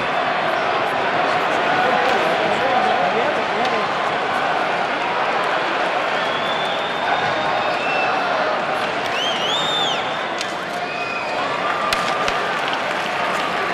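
A hockey arena crowd roars steadily to rally a home team trailing by a couple of goals. The broad, continuous cheering never lets up, with a few whistles piercing through it.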